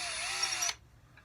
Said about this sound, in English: I'm going to come in at an angle, because this is the angle caster, and I'm going to drill a hole